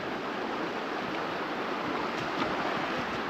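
Steady rushing water, a continuous broadband wash like a nearby flowing stream near Gundar Dam in Courtallam, with no voices.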